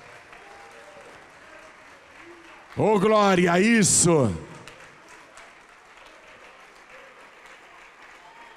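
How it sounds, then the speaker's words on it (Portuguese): A church congregation keeps up steady, moderate applause throughout. A loud preacher's exclamation briefly rises above the clapping midway, then the applause carries on alone. "Vamos aplaudir mais ao nome de Jesus."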